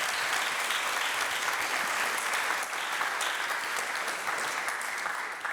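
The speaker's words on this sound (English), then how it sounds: "Round of applause, please." Sustained audience applause welcoming Emily at a music-and-animals lecture, a steady wash of many hands clapping at even loudness for several seconds with no speech over it.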